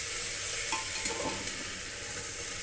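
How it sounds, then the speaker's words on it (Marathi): Vegetables for veg pulao, including carrot, green peas and cauliflower, sauté on a low flame, giving a soft, steady sizzle with light stirring throughout and no talking. "आता ह्या भाज्या आपल्याला छान 2 ते 3 मिनिट बारीक गॅसवर छान परतवून घ्यायचं आहे."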